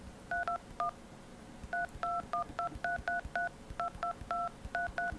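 Telephone keypad tones ring out as numbers are pressed: a quick run of short, clear beeps in uneven bursts, some rapid and some spaced apart, with faint background noise between them.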